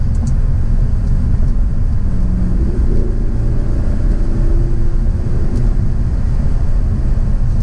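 A 2011 Audi R8 Spyder engine on the move drones as a constant, loud low rumble with steady road and wind noise, unbroken and free of talk.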